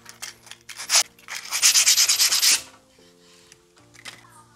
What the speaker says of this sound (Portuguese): A gente vai dar uma boa lixada.